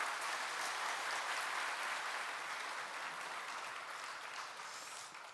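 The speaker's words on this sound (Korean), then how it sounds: "우리 박수로 한번 환영하겠습니다" A church congregation claps in welcome for a CCM singer, a broad, steady wash of applause that slowly tapers off near the end.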